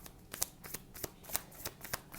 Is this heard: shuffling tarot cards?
yes